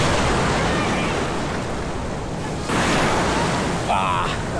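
Strong ocean surf on a beach at Puerto Galera, a loud continuous roar and wash of breaking waves mixed with wind buffeting, with voices in the background.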